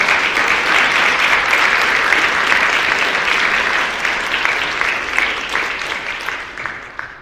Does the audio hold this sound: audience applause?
yes